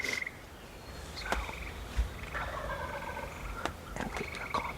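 Wild turkeys gobble in spring woods, several rattling calls from birds roosted close overhead, distinct against a quiet, hissy outdoor background with no talk.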